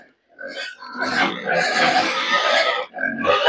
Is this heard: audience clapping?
no